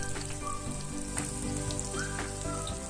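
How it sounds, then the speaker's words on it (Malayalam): Vegetable cutlets made with banana stem fry in hot oil, giving a steady, close, even sizzle with faint crackles throughout. "കട്ട്ലേറ്റും എടുത്ത് നമുക്ക് ഈ ചൂടായ എണ്ണയിലേക്ക് ഇട്ട് കൊടുക്കാം."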